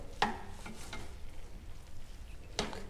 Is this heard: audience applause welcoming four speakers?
no